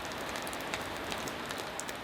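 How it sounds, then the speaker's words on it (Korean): Rain falls steadily on a mountain hermitage in the clouds at Hwanhuisan's Chaeunam, a dense, even patter of drops on surfaces with occasional sharper nearby drips and no voices. "암자가 구름에 물드는가 싶더니 이내 비가 되어 내린다"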